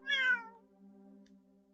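A cat gives a single clear, close meow that trails off into quiet.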